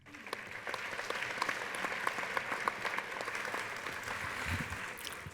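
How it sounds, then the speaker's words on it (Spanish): An audience at a national peace dialogue panel applauds a panelist, a dense run of clapping from many hands in a hall that keeps a steady level and begins to thin toward the end. "Pues démosle un fuerte aplauso"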